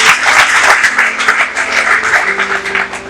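A church congregation claps hands together during a sermon, making a dense, steady patter of many overlapping claps that carries on without a break.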